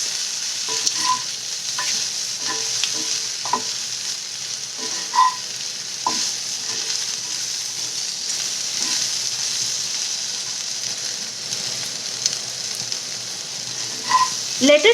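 Bhindi (okra) with onions and spices frying in a pan, giving a steady, bright sizzle throughout, with intermittent scrapes and taps of a spatula as it is stirred.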